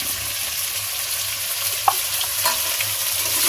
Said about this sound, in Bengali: পরিমাণ হলুদ দিয়ে আমি আলুটাকে এবার ভালো করে লাল করে ভেজে নেব